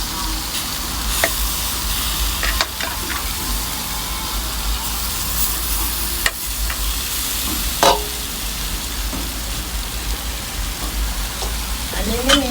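Breadfruit roasting on a barbecue grill beside baked fish, giving a steady, close crackling sizzle with occasional sharp pops and clicks throughout.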